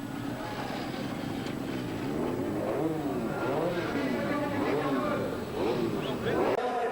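Motorcycles fire up and rev at the Le Mans-style start of the 1997 Bol d'Or endurance race, a rising crowd of engines roaring close and loud beneath a commentator's voice.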